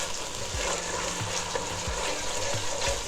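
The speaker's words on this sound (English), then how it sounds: "Saute until the ginger garlic paste loses its raw flavor" Ginger garlic paste sautéing in a pan for an Indian prawn curry, a steady loud sizzle and fry with a few soft thumps of stirring spaced through it, no talk.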